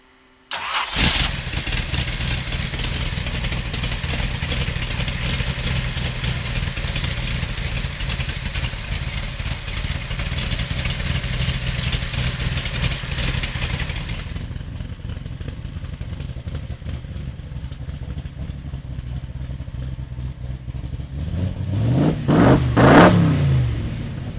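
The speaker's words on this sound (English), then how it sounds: "we'll fire it up for you right now." A powerful V8 engine in a 1965 Shelby Cobra Superformance fires up with a loud roar and settles into a rumbling idle, then is revved hard several times near the end.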